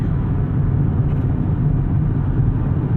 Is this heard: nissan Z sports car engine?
yes